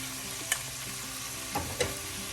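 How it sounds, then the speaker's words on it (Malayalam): Chopped onions sizzle softly in a pan of frying chicken pirattu while a spoon stirs them, a steady low fry broken by three sharp scrapes and taps, no voices. "ഈ സമയം നമുക്ക് അരിഞ്ഞു വെച്ചിരിക്കുന്ന 2 സവാളയും കൂടെ ചേർക്കാം"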